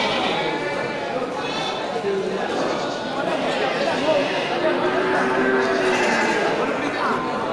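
Goats bleat at a busy goat market, several wavering cries rising above a steady wash of crowd chatter and people talking nearby.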